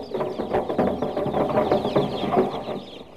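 Chickens cluck and squawk continuously in a busy, overlapping chorus, loud and close, with no voices over it.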